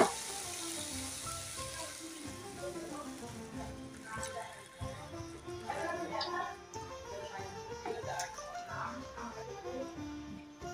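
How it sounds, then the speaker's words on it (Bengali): Water poured into a pan of fried, cooked-down masala sets off a continuous sizzle and bubbling hiss with a few clatters, moderately loud throughout, while a voice talks over it. "এবার আমি এর মধ্যে জল দিয়ে দেবো।"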